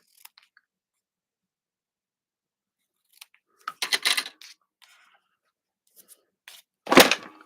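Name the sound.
scissors cutting ribbon tails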